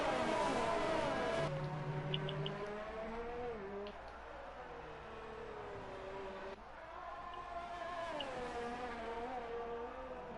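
Race cars in the F1 2019 video game, engine notes rising and falling in pitch as the cars shift and accelerate, a steady layered whine fairly quiet in the mix with no talking.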